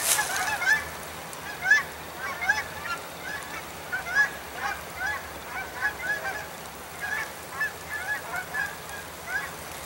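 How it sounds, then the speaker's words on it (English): Geese honk repeatedly as they fly off, a steady chorus of overlapping calls at moderate distance over a rough outdoor background. "Crazy geese off into an even crazier horizon."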